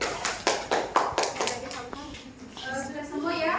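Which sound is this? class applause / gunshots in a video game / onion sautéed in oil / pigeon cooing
class applause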